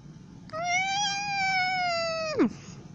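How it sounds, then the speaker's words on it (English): One long, clear cat meow, held for about two seconds before dropping sharply at the end, close and loud against a quiet background. "Don't meow, kitty."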